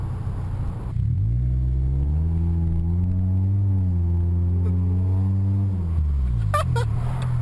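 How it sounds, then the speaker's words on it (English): A 2008 Scion xB engine revving up under throttle, a loud blatty drone whose pitch climbs, holds and then drops again, heard from inside the car with no talking. "It has this gross, like, blatty sound when you get on the throttle."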